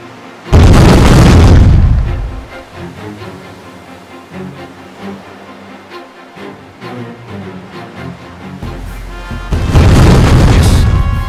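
Cannon fire in an East India Company naval strategy game: two loud, deep booming blasts, one at the start and one near the end, with quieter rumbling battle noise between them.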